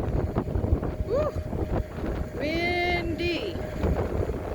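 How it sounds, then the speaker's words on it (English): Wind gusting over the microphone beside the St Clair River on a waterfront stone-stairs project, a constant low rumbling buffet with faint tonal whistles and chirps passing through. "Windy."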